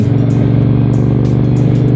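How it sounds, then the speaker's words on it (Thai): A 1992 Honda Shadow 400 motorcycle's 400cc V-twin engine idles loudly up close, a steady throbbing low rumble with an even pulsing rhythm and no voices. "อันนี้เป็นเครื่องยนต์400 ซีซีนะครับ V Twin"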